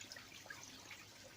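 Biomedia in an aquaponics biofilter bubbling from an air stone, a faint, soft trickle of water with small scattered bubble pops, close and continuous.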